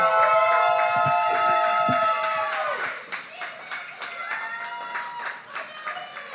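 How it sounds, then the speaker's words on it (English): Audience at a poetry slam anniversary event applauding a poet, a loud burst of clapping that fades into lighter scattered claps while a host speaks over a sustained musical tone. "Applaud the poet."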